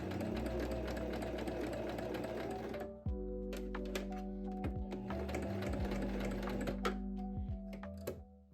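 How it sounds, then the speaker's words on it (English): A sewing machine stitches corner to corner along a welt pocket line on a vest, a fast steady rattling hum that drops briefly and resumes with faint clicks, close and alone. "you're going to sew from one corner to the other along that horizontal line"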